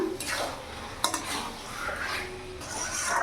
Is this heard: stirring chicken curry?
yes